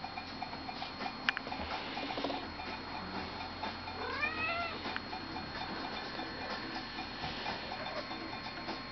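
A house cat gives a soft, drawn-out meow at indoor distance in the middle of an otherwise quiet room, with a faint steady ticking in the background and no talking.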